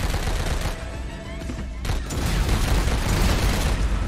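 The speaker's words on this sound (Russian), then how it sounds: "Взрыв ракеты" A rocket explosion in the game Spy Swatter 2, heard as a dense burst of booming, crackling noise that stays loud throughout with a brief dip midway.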